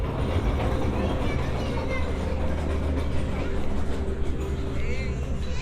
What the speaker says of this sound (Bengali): আমরা টয় ট্রেন দেখতে পাচ্ছি।